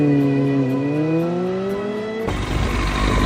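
A Yamaha R1 motorcycle on a test ride along an unused internal road, engine note rising and falling through revs, then a sudden loud broadband roar of rushing wind and engine as it speeds up, close and continuous.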